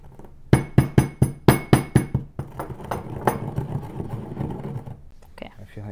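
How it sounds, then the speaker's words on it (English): Cumin seeds are crushed with a small utensil while guacamole is being made, giving about ten quick, even pounding knocks close by, followed by rougher grinding and scraping. "So we're gonna use a small side to crush the cumin."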